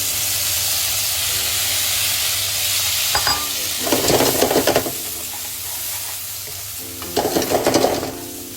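Capsicum and other vegetables stir-fry in a pan for chicken stir fry: a steady close sizzle underlies everything, with two louder bursts of stirring and clattering in the pan.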